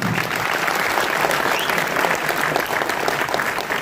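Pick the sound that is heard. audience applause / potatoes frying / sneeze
audience applause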